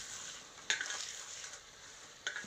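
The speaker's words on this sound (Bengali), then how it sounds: "এবার আমি ভেজে রাখা নিমগুলোকে হাত দিয়ে গুঁড়ো করে দেব" Fried neem leaves being crushed by hand in a pan, soft dry crackling and rustling with two sharper scraping bursts, close and quiet.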